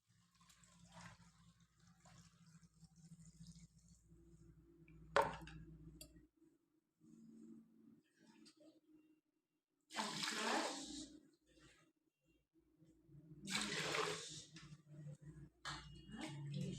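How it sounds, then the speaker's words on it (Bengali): Rice and lentils are rinsed together in water for khichuri, with quiet intermittent bursts of running and splashing water separated by near-silent pauses. "চাল আর ডাল ধুয়ে নিই,"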